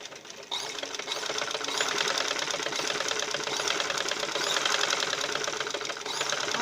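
A sewing machine stitches the final seam of a lined salwar, running fast and continuous with a rapid mechanical clatter after a brief softer start, steady and close.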